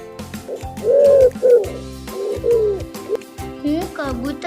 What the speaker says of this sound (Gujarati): હું કબૂતર છું.